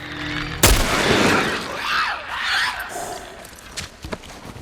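A single sharp gunshot bursts out loudly near the start in The Last of Us: Left Behind, followed by rumbling game ambience and a few faint clicks and thuds.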